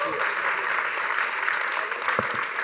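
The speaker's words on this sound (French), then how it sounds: "On les applaudit bien fort." Audience applause at a quiz show for graduates, a dense steady wash of clapping from a crowd, close and continuous with a faint voice underneath.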